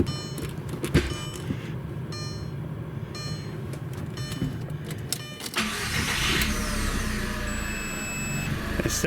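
A first-generation Audi TT Quattro engine stalls as the clutch is let out after a transmission swap. The mechanical engine noise runs steadily, then shifts into a louder, rougher wash partway through, with no voices.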